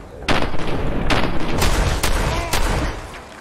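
Bursts of gunfire in the video game Fallout 4, five or six loud sharp shots spaced about half a second apart over a steady rumbling battle background.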